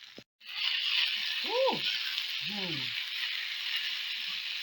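Garlic frying in a pan, a steady bright sizzle running throughout after a brief clatter at the start, while a voice speaks softly over it.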